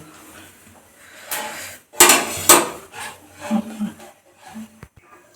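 A kadai wok is set onto a gas stove with a couple of sharp, close metallic clanks, followed by lighter knocks and scraping of metal on the burner grate, then quieter shuffling as it settles.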